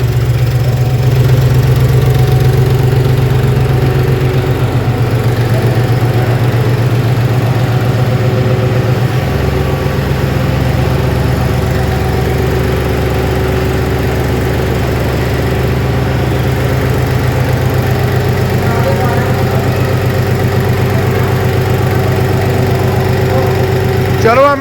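A John Deere 5105 tractor engine idles continuously at close range, a steady, low constant rumble with slight changes in pitch throughout.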